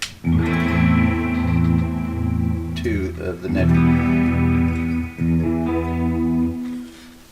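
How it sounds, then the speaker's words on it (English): Electric guitar chords shimmer with a chorus effect, sustained and fairly loud, with a brief spoken phrase in the middle. "I'm going to add a chorus effect to it"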